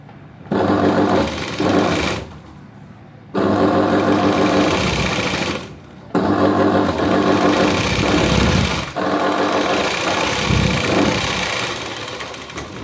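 A sewing machine stitches a V-neck blouse in loud close bursts of rapid whirring, running several seconds at a time and separated by short pauses.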